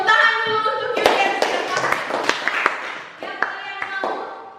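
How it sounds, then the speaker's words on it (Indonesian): A short burst of applause from students in a classroom, quick overlapping claps that thin out and fade, with a few children's voices mixed in. "tepuk tangan dulu untuk Yulian."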